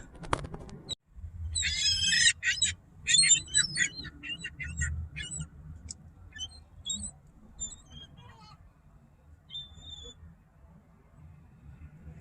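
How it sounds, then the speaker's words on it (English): Seagulls calling and squawking in a parking lot as they are fed, with bursts of sharp cries early on that thin out into scattered distant calls over a low background rumble. "Oh, I love feeding the seagulls in the parking lot."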